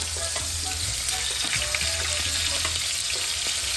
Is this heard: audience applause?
no